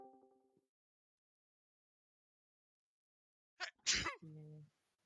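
One sharp, close sneeze cuts through a quiet room. A brief voiced sound comes just before it, and a short tonal vocal sound follows.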